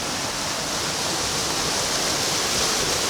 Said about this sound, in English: this is all the water that's coming down off the mountain